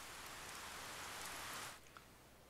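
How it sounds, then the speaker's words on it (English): Steady, loud hissing rain from the narrative game 428: Shibuya Scramble fills most of the moment, then thins abruptly to a quieter patter near the end. "nothing will make the sound of the rain stop."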